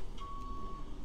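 A single steady reversing beep from a construction vehicle outside a window sounds over a low rumble of engine and street noise.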